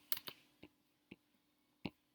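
A few isolated keyboard keystrokes typed on a computer while entering an exponential equation, five or six sharp faint clicks spread irregularly over about two seconds with quiet gaps between them.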